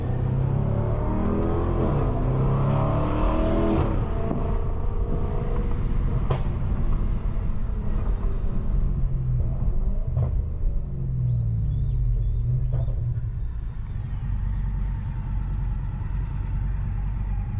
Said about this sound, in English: we about to just ride in Sport Plus and blow the tank out until we get to the gas station